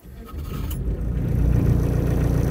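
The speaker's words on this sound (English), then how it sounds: "on the button, engine runs sweet" A Volkswagen Transporter T3 camper van's 1.7 engine idles steadily and close by, a low rumble that builds slightly in loudness and then holds even, with no talking.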